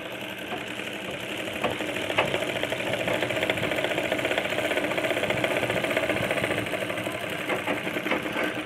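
A sewing machine stitches the hem of a blouse, running in one steady, close, continuous whirring drone for the whole stretch, with no talk over it.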